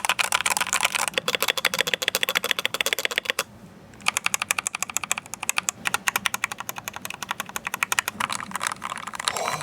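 Rapid, steady typing on a Redragon DIY mechanical keyboard with freshly replaced switches, dense clacky keystrokes close up and continuous, with a brief pause partway through before the typing resumes.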